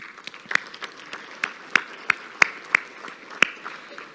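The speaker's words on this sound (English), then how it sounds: "let's really give them a big round of applause and thank them" Sparse, scattered hand claps from a luncheon audience thanking sponsors, a thin round of applause with distinct individual claps rather than a full ovation, set in a quiet room.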